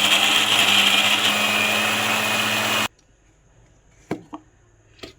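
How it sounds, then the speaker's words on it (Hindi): A kitchen mixer grinder grinding chutney whirs loudly and steadily, then cuts off abruptly, followed by a couple of soft knocks. "अब इसको पीस लेंगे हम।"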